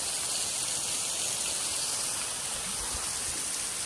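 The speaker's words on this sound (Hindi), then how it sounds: "वाटरफॉल मेरे सामने फिलहाल कम है थोड़ा" Steady, dense rushing water from Thoseghar waterfall in Satara, India, fills the whole clip, a broad continuous roar of falling water with no voices over it.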